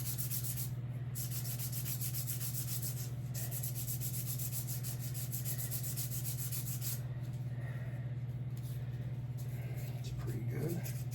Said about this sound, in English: What we're going to do now is a little hand shaping. With just a little piece of fine grit sandpaper.